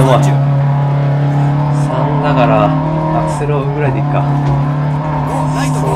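Rally car engine in the DiRT Rally 2.0 racing game, droning steadily at high revs with pitch shifts as it accelerates, with some tire noise, loud throughout and heard under a person talking.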